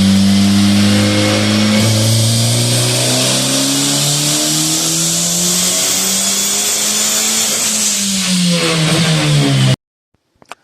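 Loud, close car engine revving continuously on a dyno, pitch rising steadily through a long pull before easing off and cutting out abruptly.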